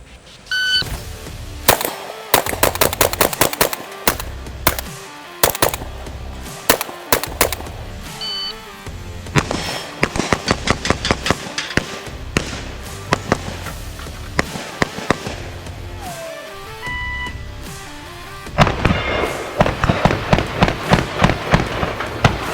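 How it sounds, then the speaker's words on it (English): Rapid gunfire rings out at targets in a shooting drill, with fast strings of sharp, loud shots in several bursts and short pauses between them. "Let's shoot."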